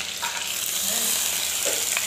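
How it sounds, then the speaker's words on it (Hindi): Green onions fry in a hot pan with Indian-style cooking, giving a close, continuous bright sizzle with faint stirring scrapes throughout. "हरी प्याज डाल दिया है मैंने"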